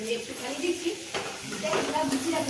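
Cashews and raisins fry in a pan with a soft, steady sizzle, along with occasional clinks of a utensil against the pan and faint voices in the background.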